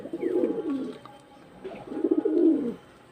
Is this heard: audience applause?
no